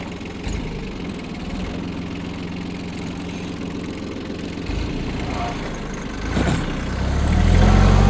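A tractor engine idles with a steady low chugging rumble, nearby, then revs louder toward the end; a voice speaks briefly over it.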